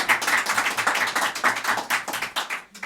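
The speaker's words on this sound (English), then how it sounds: "yes, round of applause." A small audience claps in a living room that is serving as a performance space. The round of applause is close and loud, with dense uneven claps that fade slightly toward the end.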